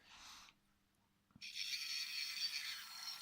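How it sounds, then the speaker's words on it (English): A motor-driven worm gear turning a slower wheel, heard as a brief whir, a quiet pause and a click, then a steady close mechanical whine with fine ratcheting texture. "This gear is turning very, very fast, whereas the wheel being driven by it is turning much, much slower."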